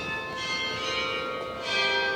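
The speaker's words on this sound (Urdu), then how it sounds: "چرچ کی گھنٹیاں بج گئی ہیں." Church bells ring at night in Pavia, Italy, a steady sustained peal with long overlapping tones at moderate distance, no voices heard.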